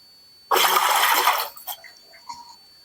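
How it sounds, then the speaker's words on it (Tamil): Water is poured out during a traditional Siddha remedy preparation with kadukkai and aloe vera, a close, loud splashing gush lasting about a second, then a few small drips and trickles. "இந்த தண்ணியை ஊற்றிட்டு"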